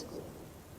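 Steady rain hiss with a low thunder rumble underneath, continuous and fairly soft, with no voices.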